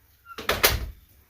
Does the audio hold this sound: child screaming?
no